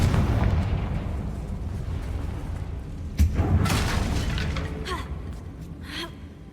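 A Confringo spell explosion in Hogwarts Legacy: one sharp blast cracks out midway through a steady low rumble, followed by a crackling, fading burst and scattered smaller pops.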